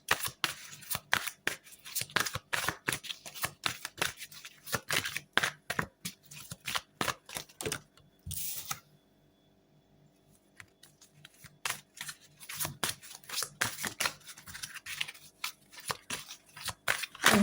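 Tarot cards are shuffled and drawn in a quiet room: quick, crisp riffling clicks and snaps in dense bursts, pausing briefly near the middle before the rapid card flicking resumes, close and fairly loud.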